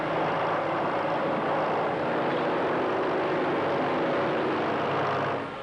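A snowplow truck on Tug Hill runs with a loud, steady engine roar and rumble that holds constant throughout before easing slightly at the end, with no talking.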